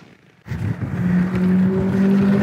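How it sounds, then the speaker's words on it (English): A motorcycle engine bursts in abruptly and accelerates, a loud, close, steady drone whose tone climbs and holds during a recumbent bike tour. "Wait, that's a motorcycle."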